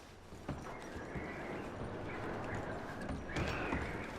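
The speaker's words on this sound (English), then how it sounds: "I'm going to start packing the horses." Horses in the Red Dead Redemption 2 video game, with steady hoof clip-clop and a couple of whinnies over a continuous outdoor ambience, moderately near.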